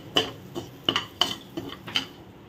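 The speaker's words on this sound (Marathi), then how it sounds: "बटरमध्ये मी ॲड करत आहे सेवया। सो ह्याला एक असं थोडंसं खरपूस असं भाजून घेऊया।" Vermicelli stirred and roasted in butter in a pan, heard as a handful of sharp metallic clinks and scrapes of a utensil against the pan in an uneven rhythm, close by and with no talking.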